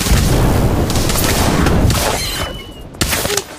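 A loud, roaring blast from the Incendio spell bomb in a Harry Potter video game, a dense rumbling explosion that fades out with a few sharp crackles at the end.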